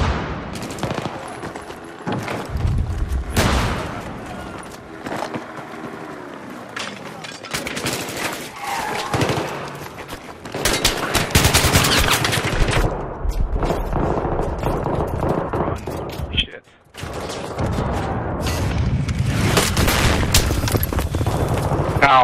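Battlefield 3 Metro Conquest match: dense bursts of automatic gunfire and rapid single shots, some near and punchy, others distant, roll through a chaotic firefight with booms, and voices talk intermittently over the shooting.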